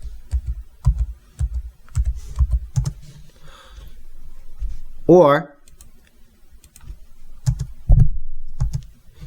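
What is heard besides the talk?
typing location names on a computer keyboard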